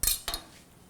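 Utensils and dishes clink twice in a kitchen where tarri poha is being cooked, two brief close metallic knocks followed by a quiet fade.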